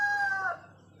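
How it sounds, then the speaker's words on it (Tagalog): A turkey calls once in a backyard: a short, clear, two-toned cry that lasts about half a second and then trails off, with no voices. "Yung mga pabo guys. Nandiyan lang siya sa bakuran."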